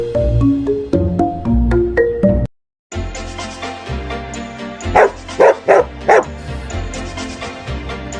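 A dog barks in a short run of four quick yips over a busy musical background, close and fairly loud.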